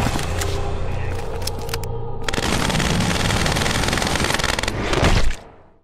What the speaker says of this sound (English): Shooting our way into number 27 is from Refugee Camp